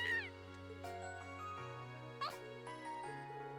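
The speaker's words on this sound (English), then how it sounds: "That's a really cute meow soundbite." A cat in the Trails of Cold Steel video game gives soft, cute meows over sustained background game music.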